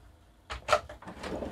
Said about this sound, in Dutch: En daaronder twee voorraadladers. Zoals je kunt zien, ook daarop soft close toegepast.